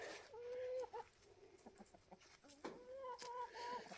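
Backyard chickens cluck and murmur nearby in fine weather, a few drawn-out calls and short clucks scattered over a quiet outdoor background.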